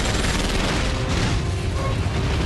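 Gunfire erupts in an action movie scene as gunmen shoot at a helicopter, a dense, loud barrage of shots and booms running nonstop under a thick wash of noise.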